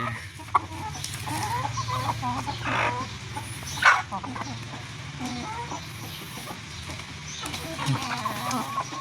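Laying hens cluck and squawk amid steady farmyard noise, with a few sharper calls standing out and a low background hum.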